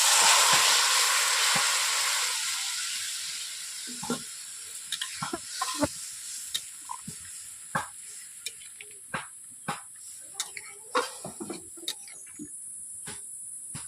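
Milk-soaked paneer pieces go into a hot kadai, a broad steady sizzle at first that thins into scattered spitting pops and clicks as the frying settles, fairly close and with no voices.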